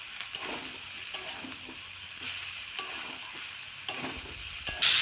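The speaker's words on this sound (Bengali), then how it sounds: "ধনে গুঁড়ো দিয়ে দেবো, টমেটো দিয়ে দেবো, স্বাদ মতো লবণ। ভালো করে কষে নেবো।" Cauliflower, potato and kohlrabi curry with tomato and spices sautéed in a pan, a steady sizzle under repeated scraping stirs of a spatula, close and fairly loud, with no voices.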